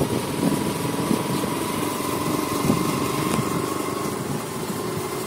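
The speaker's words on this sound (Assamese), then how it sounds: "বাগানৰ ভিতৰত আমি বাইক লৈ যাম" A motorcycle engine drones steadily and close at a constant pitch while riding along a road through an Assam tea garden, with no break in the noise.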